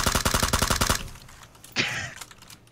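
Gunfire in PUBG, a rapid burst of about a dozen close, sharp automatic shots lasting one second, followed by a brief pause and a single crackling impact.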